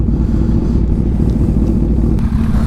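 Kawasaki Ninja H2 engine at a drag strip, a loud, steady low rumble idling close by with no talk, held at an even level throughout.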